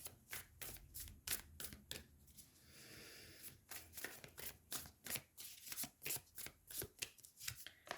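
A Light Seer's tarot deck is shuffled by hand at close range, a run of crisp riffling card bursts in a steady rhythm with short pauses, with no talking.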